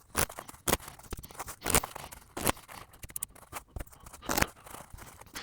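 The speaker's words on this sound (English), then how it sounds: "let me get these cards all shuffled up" A double deck of playing cards is shuffled and riffled by hand during a blackjack card-counting practice session, giving repeated sharp bursts of fluttering card snaps with quieter handling between them, close and alone.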